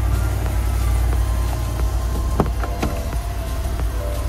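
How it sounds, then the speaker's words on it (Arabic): Engine of a 2022 Chevrolet Tahoe Z71 with the 6.2 V8 running at idle, a steady low rumble heard up close with faint clicks and background noise, no talk. "ده صوت الماكينه ما شاء الله."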